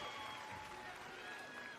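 Crowd cheering and applause fill the arena at a FIBA 3x3 women's basketball quarterfinal, USA versus Québec, a steady broad roar sustained throughout beneath a commentator's voice.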